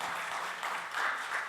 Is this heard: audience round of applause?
yes